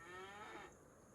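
A cow in a farming video game gives a single drawn-out moo, close and fairly quiet, fading after a second with no talk.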